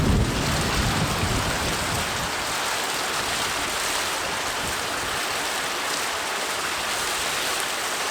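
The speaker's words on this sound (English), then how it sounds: "There's kind of a cool waterfall over here." Steady, broadband rush of a waterfall on King Creek in the High Sierra's Ansel Adams Wilderness, a dense continuous roar heard close by and alone, with no voices over it.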